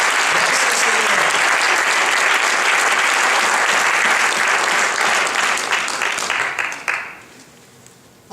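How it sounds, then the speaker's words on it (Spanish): A church congregation breaks into loud, sustained applause that fills most of the moment, then fades out sharply near the end. "Un aplauso fuerte para Él."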